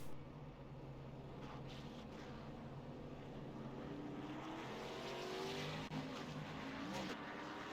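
Ford Mustang race cars roll off at Phoenix Raceway, their engines a steady droning rumble that swells slightly, heard from a distance and fairly faint.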